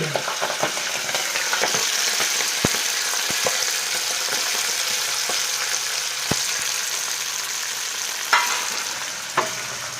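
Fenugreek leaves frying in hot oil, a steady broadband sizzle held close throughout, with occasional sharp clicks and pops of a spoon scraping the pan.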